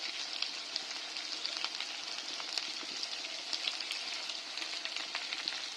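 Dhaba-style chicken masala with a heavy dose of chilli powder sizzles and crackles steadily in a hot pan as it is stirred, a constant close frying hiss with scattered small pops and no talking.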